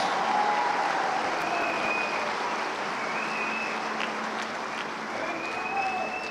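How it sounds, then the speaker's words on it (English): Audience at a fall afternoon college commencement ceremony applauding, a continuous, even roar of many clapping hands heard from a distance in a large hall, with faint voices underneath. "let's give a round of applause to our baccalaureate candidates."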